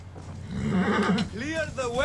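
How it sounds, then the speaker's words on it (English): A horse whinnies loudly with rising and falling pitch, preceded by rumbling hoofbeats and mixed with other game sounds. "Call dibs on this horse. This horse right here!"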